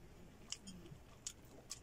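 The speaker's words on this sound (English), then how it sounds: "I need to chew." Someone chewing food up close at a very low level, with three sharp, moist crunchy clicks spaced out over a soft background.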